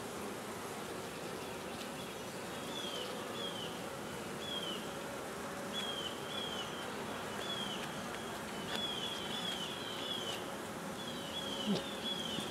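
Bees buzz steadily around hives, a low continuous drone with faint intermittent higher chirps over it, fairly quiet and distant.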